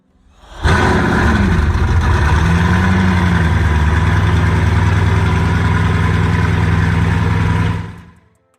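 A Bugatti Divo's engine fires and settles into a loud, steady idle, a close, deep and even rumble with a brief rise in pitch near the start, then cutting off abruptly near the end.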